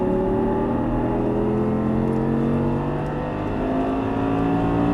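Audi R8 accelerating hard on a race track, its engine note climbing steadily in pitch as revs build, loud and close with a continuous roar throughout.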